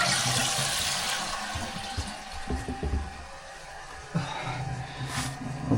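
A back-to-wall toilet is flushed as a test, a rushing gush of water followed by the tank refilling with a steady hiss and trickle, close by.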